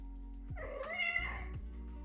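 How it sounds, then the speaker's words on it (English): A single soft, drawn-out cat meow, close by and fairly quiet, rising and falling over a low steady hum. "Meow."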